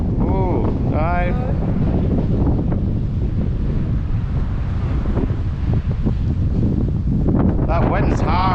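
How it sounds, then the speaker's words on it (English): Strong wind blows hard beside the River Spey at Arndilly in February, a loud continuous rumble buffeting the microphone, with voices talking over it at the start and end. "That wind's hard"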